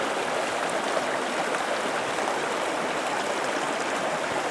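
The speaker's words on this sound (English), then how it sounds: "A little bit of water coming out of North Lake." Small stream flowing out of North Lake among rocks, a steady broadband rush and babble of water close by, continuous and unbroken with no voices.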